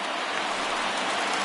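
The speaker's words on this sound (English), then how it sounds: "It looks like this rain is going to be around for a while." Steady rain during a baseball game delay in MLB The Show 19, a dense, even hiss of falling rain that stays constant and fairly loud with no other sounds.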